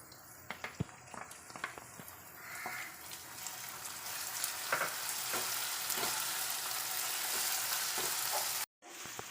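Ginger garlic paste frying with golden onions in a pan for chicken curry, a steady bright sizzle that builds and holds close by, with a few stirring clicks and no talk.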